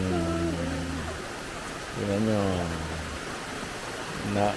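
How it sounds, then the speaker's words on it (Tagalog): Rain falls in an eco park setting, a constant broad hiss running underneath people talking nearby. "So, it's raining."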